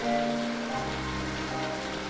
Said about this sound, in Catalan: era el Totoro gran que s'estava mullant sota la pluja i esperava amb elles l'autobús.